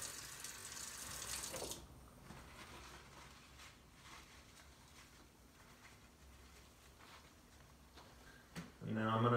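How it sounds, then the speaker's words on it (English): A lab sink faucet runs with a loud hiss of water, then is shut off; afterward only faint handling noises remain until a brief louder burst near the end, and no one talks. "I'm going to turn off the faucet with another paper towel here"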